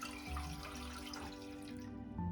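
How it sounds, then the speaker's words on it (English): Water running from a tap into a medium saucepan, a steady continuous splash and trickle lasting a couple of seconds, close and moderately loud. "I'm gonna start by putting 2 cups of water in a medium saucepan."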